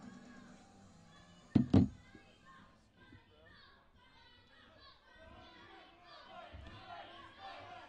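A live pro wrestling crowd divided between two wrestlers, Sledge and Funny Bone, fills the room with overlapping chatter and scattered shouts after a loud thud early on.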